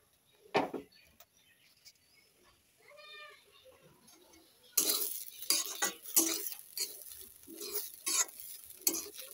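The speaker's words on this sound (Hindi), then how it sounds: "गाजर जो है कुछ इस तरह से फ्राई हो रहा है" Grated carrots for carrot halwa sizzle and fry in a pan while a spoon stirs and scrapes them, starting quietly with a few clinks and turning into louder, close, irregular sizzling and scraping.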